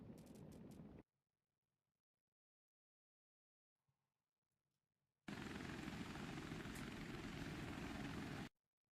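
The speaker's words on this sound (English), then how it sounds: "I'm in my chopper." Helicopter in the video game Wardogs: a short rotor-engine burst, a stretch of near silence, then a loud, steady, close roar that holds for about three seconds before cutting off, with no talking.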